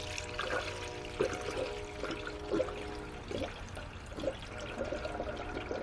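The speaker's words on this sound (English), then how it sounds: "We're going to refill it with some gold coolant." Gold coolant poured into the coolant reservoir of a 1998-2003 Ford Escort 2.0L Zetec, a steady close-up gurgling pour with small splashy bursts and no talk.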